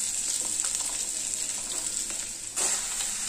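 Potato and bottle gourd fry over a high gas flame, a dense steady sizzle that swells suddenly near the end as the pan is stirred, no talking.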